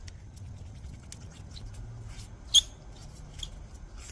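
A helicoil threaded into a cylinder head during a budget head repair gives faint, sparse scratchy patter and small squeaks, with one sharp, brief squeak standing out near the middle against a quiet background.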